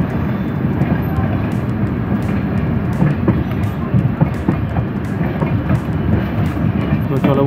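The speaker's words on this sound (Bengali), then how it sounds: "আলিপুরদুয়ার জংশন থেকে আসছে, দিল্লি যাচ্ছে সিকিম মহানন্দা এক্সপ্রেস।" The Sikkim Mahananda Express, bound for Delhi from Alipurduar Junction, rolls past with a loud, continuous rumble and rhythmic wheel clatter heard close by.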